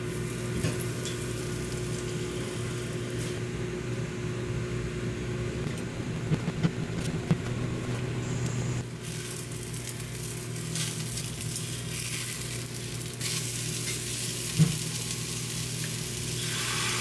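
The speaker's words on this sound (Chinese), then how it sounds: "把它跟蛋一起煎好了" Leftover fish fries with egg into an omelette in a pan, giving a continuous gentle sizzle with a few faint scrapes and taps and no speech.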